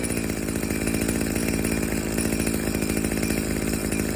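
A WeedEater Featherlite SST25 string trimmer's two-stroke engine runs steadily at idle after a cold pull start, a loud, close, continuous buzzing drone with a fast pulsing rhythm throughout.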